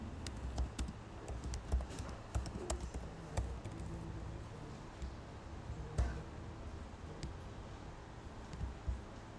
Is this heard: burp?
no